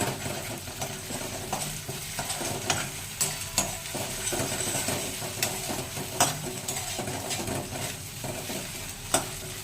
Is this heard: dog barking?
no